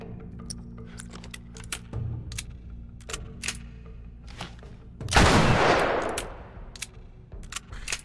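Gunfire in The Last of Us Remastered video game: a string of sharp, separate shots spread across the clip, with one loud, long blast near the end that trails off, no talk over it.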